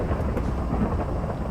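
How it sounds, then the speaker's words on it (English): Thunder from a lightning storm in the Minecraft video game, a loud continuous low rumble with rain hissing over it, no speech. "thunder and lightning for you."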